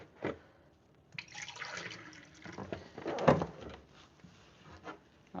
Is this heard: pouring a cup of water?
yes